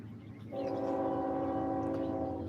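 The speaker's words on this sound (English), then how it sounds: "There's another train coming." A train horn blares a sustained, steady chord over the low rumble of a passing train, moderately distant and continuous to the end.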